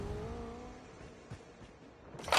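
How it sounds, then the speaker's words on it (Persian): Engine-like revving hum from a gun animation in Call of Duty, a tonal whirring drone that fades, then a sharp noisy burst at the end. "یک موتور بچه از این انمی در میاد"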